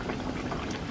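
Breaded chicken cutlet sizzling in hot frying oil, a steady dense crackle and bubbling that stays even and fairly loud for the whole second, with no voices over it.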